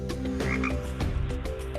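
A frog croaks from an augmented-reality literacy app, Letters Alive, with several loud, rapid, throaty croaks in an uneven rhythm, close and alone with no talking.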